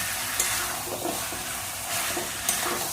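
Chicken sautéed with a pinch of garam masala powder for chicken kasha sizzles and fries steadily, with spoon stirring scrapes and a few sharp clinks against the pan, close and moderately quiet.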